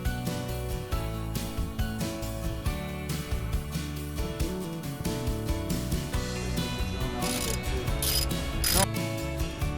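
A ratchet tightens the top and bottom brake caliper bolts on the front brakes of a 2008 Saturn Vue, its clicking running steadily and fairly close throughout, with denser bursts toward the end.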